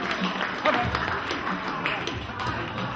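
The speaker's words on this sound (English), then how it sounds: "Give yourself a nice round of applause and high five to people in your group" A fitness class group applauds one another, a dense steady patter of clapping and tapping with crowd noise and voices mixed in throughout.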